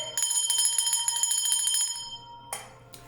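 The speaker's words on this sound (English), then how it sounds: "I'm going to ring the bell for that in a moment." A single bell is rung, giving a bright metallic ring with pulsing decay that fades after about two seconds, followed by two short fainter strikes near the end.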